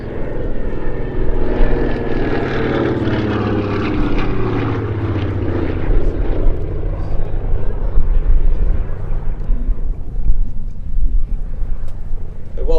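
A Lockheed Electra Junior propeller aircraft flies past at the Sywell airshow, its loud engine drone swelling and then fading slowly as it moves away, with steady outdoor background noise.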